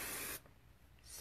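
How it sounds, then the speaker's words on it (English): A short, close burst of aerosol spray hisses for a moment, then cuts off, followed by a quieter second hiss. "go back in with that hairspray"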